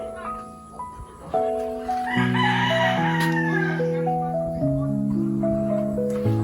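A rooster crows once over steady, sustained tonal notes that fill the background.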